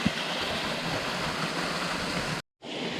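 A waterfall and stream pour in the Ballyhoura Mountains: a steady, dense broadband rush of water, close and continuous, briefly cutting out just before the end.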